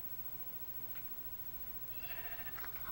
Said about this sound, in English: I see a sheepy!